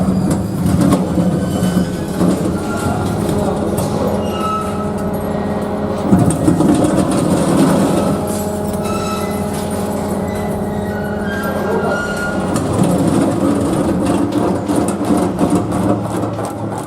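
An M&J 4000-8 industrial twin-shaft metal shredder grinds scrap metal with a continuous, loud rumbling roar, steady throughout with heavier crunching surges partway through and near the end.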